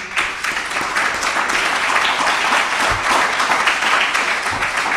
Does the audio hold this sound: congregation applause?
yes